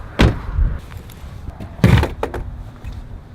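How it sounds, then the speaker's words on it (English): A locked door is tugged and pushed, giving two heavy thuds with rattling, a few sharper knocks after the second, and quieter background noise between. "Well, that door's locked."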